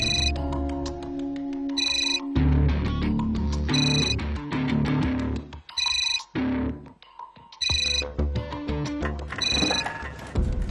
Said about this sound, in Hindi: बेल पे बेल दिए जा रहा है